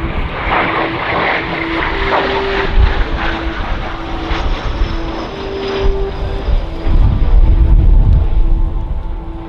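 English Electric Canberra jet bomber making a pass at an Australian airshow, a loud sustained engine roar swelling and rolling by with a steady whine, louder again near the end.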